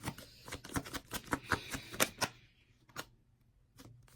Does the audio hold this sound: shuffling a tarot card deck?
yes